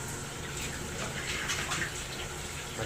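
Gulaman and sago being washed under a running tap, a steady close splashing gush of water filling a basin, with no talking over it.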